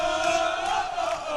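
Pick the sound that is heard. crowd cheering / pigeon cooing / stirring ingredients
crowd cheering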